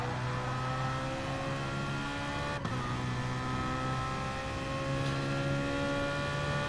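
A race car engine holds a steady high whine through Monza's Parabolica in Gran Turismo Sport, sustained and even, with one brief click partway through.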